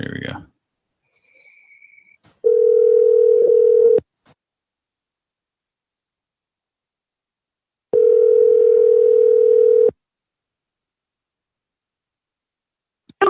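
A telephone line ring tone sounds while calling out, two long steady buzzing rings separated by several seconds of silence, with brief handset clicks before and after.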